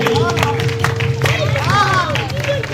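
An audience at a school ethics lecture claps for children called up onto the stage, a loud, dense patter of hands mixed with crowd murmur, while voices talk over it.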